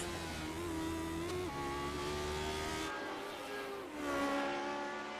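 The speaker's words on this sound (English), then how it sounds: "He's trying to get this car back up to speed." A race car at Mount Panorama, after crashing through the cutting, accelerates back up to speed, its engine climbing through gears with clear revving pitch rises and a shift, heard steadily at moderate distance with no talk.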